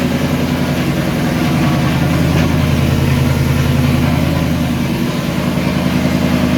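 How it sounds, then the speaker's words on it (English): A Mercedes W211 E55 AMG runs with its mufflers removed, a loud, deep, steady idle with a rough pulsing burble close by and no talking. "you have to start the car without the mufflers on it"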